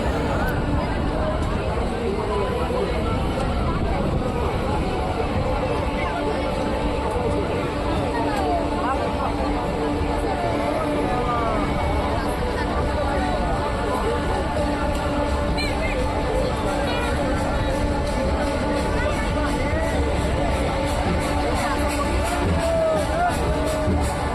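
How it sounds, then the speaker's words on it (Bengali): A crowded train pulls into Thakurnagar station during the Matua fair, a steady rumble and rattle of wheels under dense crowd chatter and someone talking, with bangs and clatter throughout. "ট্রেন স্টেশনে প্রবেশ করেছে দেখুন ট্রেনের ভিড়ের অবস্থা"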